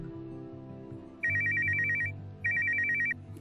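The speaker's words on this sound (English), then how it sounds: "That's your phone." A telephone rings in two long electronic trilling bursts, the second after a short pause, sounding fairly close over soft background music with no talking.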